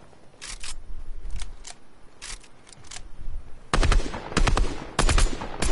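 Gunfire in a Fortnite match near Lazy Lake, with scattered single shots and short bursts early on, then louder, denser volleys of rapid fire toward the end.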